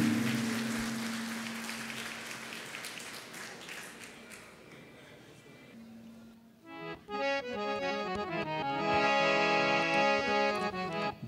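An audience at a Sir Syed Day alumni gathering applauds with a dense wash of clapping that slowly fades, then tonal music takes over.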